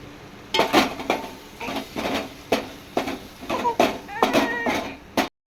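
Coriander powder and spices frying in a pan for palak paneer butter masala, with repeated clinks and scrapes of a spoon against the pan over a steady low sizzle, close and moderately loud, with a voice talking at times.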